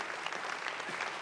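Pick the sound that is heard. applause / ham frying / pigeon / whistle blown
applause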